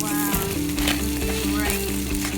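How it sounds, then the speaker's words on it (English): Spare ribs and steak sizzle on a grill over an open campfire. The crackle and hiss is steady and close, running under a continuous musical backing. "A camping trip is a perfect time to grill spare ribs and steak over the open fire"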